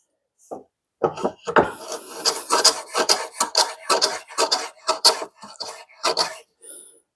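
A rabbet plane takes very light cuts in wood, giving a series of short, close, dry rasping strokes in an irregular rhythm after a brief quiet start, with no talking.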